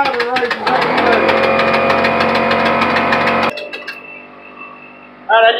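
A steam/air engine running on test gives a loud, steady mechanical drone with rapid pulsing. It cuts off abruptly partway through, leaving quieter hissing before another loud burst at the end.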